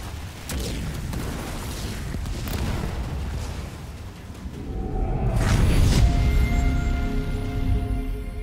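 Vehicle fire in Halo Wars 2 sets off a continuous stream of deep booms and rumbling explosions, swelling louder in the second half with a whooshing burst, all fairly close and heavy.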